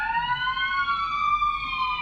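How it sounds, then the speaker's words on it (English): A Hatzalah Jewish volunteer ambulance siren wails steadily, its rising and falling tone loud and close throughout, with no talk over it. "it's Hatzalah. It's our Jewish ambulance"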